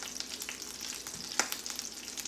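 Ribeye steak frying in four tablespoons of butter in a cast iron pan, giving a steady close sizzle and crackle with a few sharper pops, no voices.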